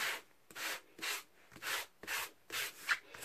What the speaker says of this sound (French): avec votre petite ponceuse, vous venez poncer comme ça, à plat